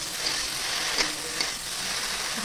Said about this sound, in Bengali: তো দেখো আর একটু কোচুনি জল দিয়ে দিচ্ছি